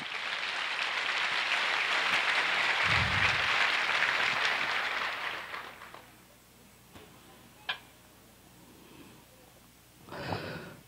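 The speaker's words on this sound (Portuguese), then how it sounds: "Então dê para Jesus um forte aplauso." A church congregation gives loud, dense applause for about five seconds before it dies away, leaving a quiet room with a few scattered sounds.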